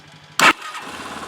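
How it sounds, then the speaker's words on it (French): A Yamaha YBR 125 fuel-injected motorcycle starts with a brief burst of starter noise, then settles into a low, steady idle nearby. "la prise est bien branchée et je démarre la moto"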